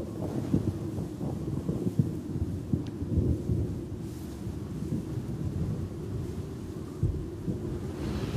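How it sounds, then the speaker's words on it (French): Thunder from the first rumbles of a storm ahead of a tornado: continuous low rolling rumble with gusty wind noise across the whole stretch, fairly faint and distant, no voices. "l'orage fait entendre ses premiers grondements"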